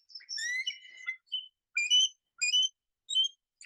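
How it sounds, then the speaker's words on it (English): Recorded eagle call played back, a series of high, thin whistling chirps and trills in short separated bursts, clear and isolated against silence. "I'm gonna play you the sound of an eagle."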